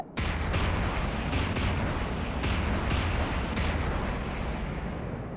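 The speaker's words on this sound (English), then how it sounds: "Nope, still firing back at me." Enemy gunfire in the naval combat game From The Depths, a loud, unbroken barrage of rapid cannon and gun shots rumbling heavily, with a few sharper bursts standing out over the constant roar.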